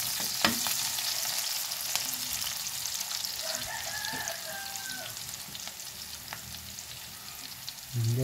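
Onions frying in a very hot pan, a steady close sizzle with faint stirring, a rooster crowing briefly in the background.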